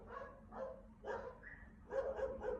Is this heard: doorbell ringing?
no